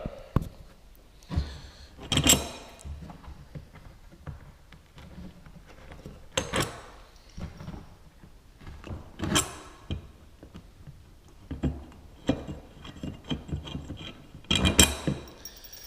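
Metallic ratcheting and clanking bursts recur every couple of seconds, close up, like a wrench turning and loosening bolts on a Sea-Doo Spark davit mount, amid low rustling.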